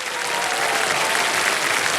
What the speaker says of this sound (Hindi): और ताली कोई बजा ही नहीं रहा है।